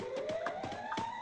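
A Free Fire zone-warning siren rises slowly in pitch as a steady electronic wail, with rhythmic in-game clatter and faint game noise pulsing beneath it.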